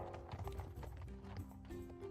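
Horses clip-clop steadily through the Six Ages game scene, a dense rhythmic patter of hooves with a faint whinny-like tone riding over a continuous musical backdrop.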